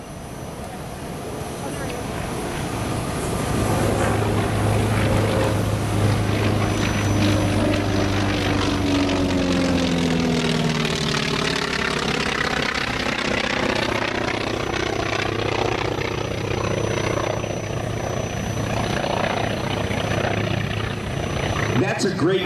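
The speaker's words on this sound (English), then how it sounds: "Very unique sound to this radial engine because of the way the exhaust stacks are" A T-28 Trojan with a radial engine flies past at an airshow: a loud, rough propeller roar builds, sweeps down in pitch as it passes close by, then drones on steadily while someone talks over it.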